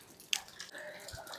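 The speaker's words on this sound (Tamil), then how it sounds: "கரெக்டாக மேலேருந்து தண்ணி விழுகிறது இந்த இடத்துல விழுகும்." Rainwater drips from above at the Vitthala temple in Hampi: a few faint, close drops and a soft trickle over quiet background.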